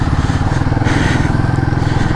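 A Royal Enfield Guerrilla 450 motorcycle engine thrumming while being ridden at low revs, a loud, close, steady pulsing exhaust beat with wind rush over it.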